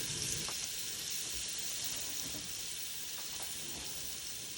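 Garlic and turmeric (haldi) sizzle steadily in a hot pan, a continuous close frying hiss with faint occasional stirring scrapes and no talk.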